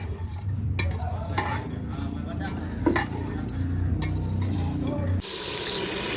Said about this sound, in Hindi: अब इसको अच्छे तरीके से ब्राउन करते हैं।